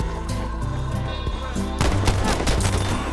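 Gunfire from a Mk VI revolver in the video game Battlefield V. Loud, close shots ring out over a dense wartime battle soundscape, with a heavier burst of firing in the second half.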